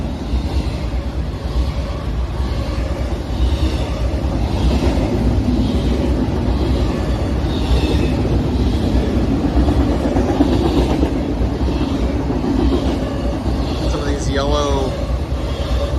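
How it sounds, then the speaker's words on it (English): A freight train rolls steadily past at close range, its wheels and cars making a continuous heavy rumble with clickety-clack over sixteen seconds, and a horn-like tone sounds near the end. "So I'm going to film this train"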